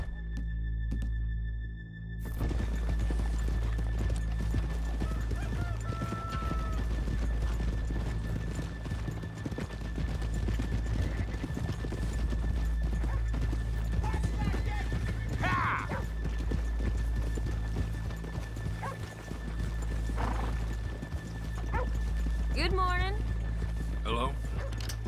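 Horses in the Red Dead Redemption 2 game clip-clop steadily off the main drag, hooves thudding close under talk, with a couple of short neighs and whinnies breaking in partway through.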